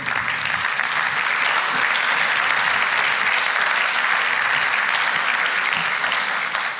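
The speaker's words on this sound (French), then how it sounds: "Je crois qu'on peut les applaudir." Sustained applause from a conference audience, steady and dense throughout, with no break in the clapping.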